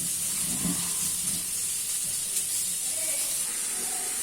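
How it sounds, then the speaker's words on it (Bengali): Fish frying in a pan in a home kitchen, giving a steady, close hiss and sizzle throughout with no talk over it. "এই যে আমার মাছ ভাজা এখানে কমপ্লিট হয়ে গেল"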